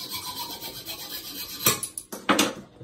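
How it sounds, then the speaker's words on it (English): Excess bolt on a newly installed toilet being cut off, a close scraping, rasping cut with a couple of louder strokes near the end. "I'll go ahead and cut the extra bolt off of it."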